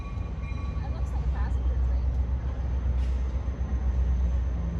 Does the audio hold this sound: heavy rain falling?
no